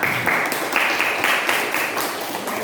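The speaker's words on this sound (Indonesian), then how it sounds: "Beri tepuk tangan untuk kelompok" Steady crowd applause after a group presentation, many hands clapping continuously at a fairly even level for a few seconds, with no voices standing out.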